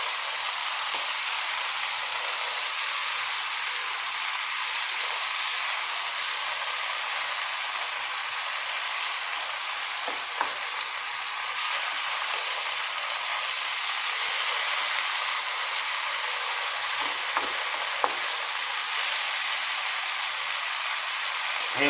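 Kangkong (water spinach) sizzling in a hot pan for adobong kangkong, a steady loud hiss like rain that holds unbroken throughout, with a few faint clicks and no voices.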